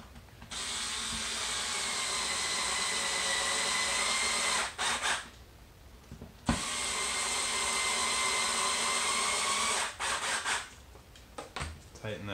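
An electric driver tightens two 1 1/4 inch machine screws during FDL-3 (Wee) assembly, giving two long, steady, close whirring runs of about four seconds each, followed by a few short stuttering bursts as the screws seat.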